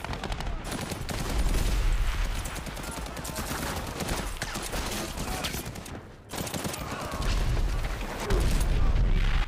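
Sustained machine gun fire and explosive blasts from the Iwo Jima battle in the war series The Pacific, a loud dense barrage of rapid bursts over nearly ten seconds with a short lull midway.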